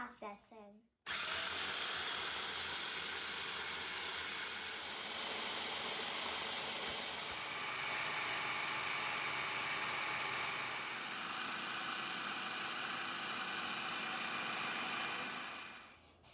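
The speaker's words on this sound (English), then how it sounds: "transfer your roasted seeds to the food processor. Secure the lid on and start processing." A food processor grinds roasted sunflower seeds into sunbutter, a loud steady whirring drone that starts after a brief pause and runs almost unbroken to the end, close up with no talking.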